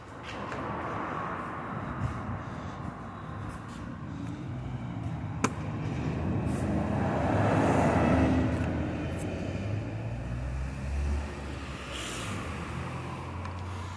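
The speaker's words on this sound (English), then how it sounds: "God, this road is noisy." Steady road traffic rumbles throughout, with vehicles swelling past and fading, a sharp click partway through, and no talking.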